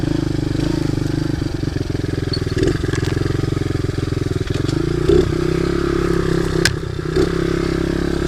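A newly acquired pit bike's small engine idles steadily up close, a continuous low throbbing drone with occasional clatter and a slight rise in revs partway through, no talking.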